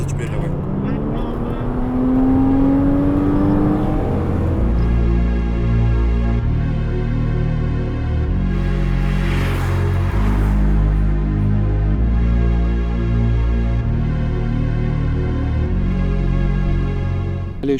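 A nervy, well-planted car revs hard, its engine note climbing then settling into a loud, steady drone with stepwise gear changes as it pulls away down the road, the engine dominant and close throughout.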